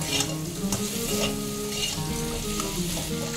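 Potato and bitter gourd pieces sizzle and crackle steadily in a pan for shukto, a Bengali dish, with occasional stirring scrapes, close and continuous with no talk.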